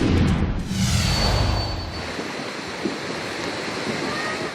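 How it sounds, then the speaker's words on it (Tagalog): A strong current of floodwater rushes past a house beside a creek in Barangay Solo, Mabini, Batangas, during monsoon rains. The roar is loud, dense and continuous, with wind buffeting the microphone. "Ganito kalakas ang agos ng baha sa Barangay Solo, Mabini, Batangas."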